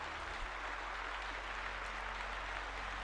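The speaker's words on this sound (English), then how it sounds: "let's give Squatch a round of applause" Applause from an audience at a live session reviewing homebrew game material, a steady wash of clapping held at an even level for a few seconds with no voices over it.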